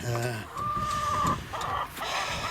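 Hens cluck and squawk in short bursts close by, with a person talking over them.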